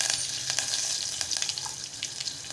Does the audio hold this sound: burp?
no